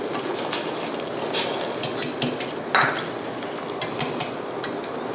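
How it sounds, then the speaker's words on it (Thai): A spoon stirring dissolved wheat flour into spinach cream soup in a pot, with scattered light metallic clinks and scrapes against the pan over a soft steady background. "ค่อยๆใส่ลงไปนะคะแล้วก็อีกเมนูนึงก็อย่าลืมที่จะต้องคอยคนแบบนี้ด้วยนะคะ"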